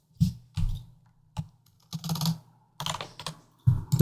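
Typing on a computer keyboard, in bursts of clicking keystrokes separated by short pauses, close and fairly loud with no speech.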